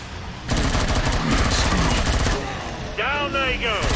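Rapid bursts of automatic gunfire crackle loudly for a few seconds in the game Killing Floor 2, followed by a rising electronic whine mixed with game effects.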